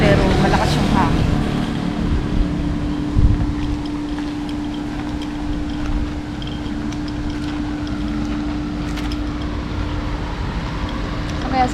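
Strong wind buffets the microphone outdoors in Bulacan, Philippines, with a constant rumbling roar, a steady engine-like hum beneath and a voice talking now and then.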